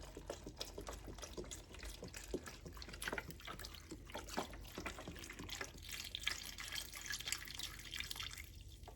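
Water poured from a container into a pot of lazy beef stew with broth, a steady close trickle and splashing with small drips, faint and continuous without talk.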